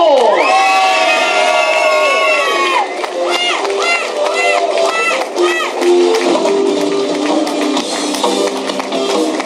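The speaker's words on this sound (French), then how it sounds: "Dans quelques instants, les applaudissements pour le vainqueur de cette 23e édition." A loud roadside crowd cheers and shouts continuously for a cycling stage winner at the Trophée Centre Morbihan in Locminé, with high-pitched whoops and children's yells, while a voice speaks over the noise.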